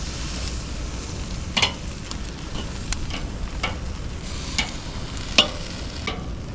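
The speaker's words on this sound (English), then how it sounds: "let's put the broccolini on the grill" Broccolini sizzles on a hot Weber kettle grill, a steady close crackle with a few sharp clicks and pops from tongs flipping the stalks, no voices.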